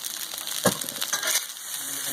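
Shrimp frying on a Blackstone griddle while fried rice is cooked: a steady crackling sizzle with a sharp tap or scrape near the start and a few clinks, fairly close.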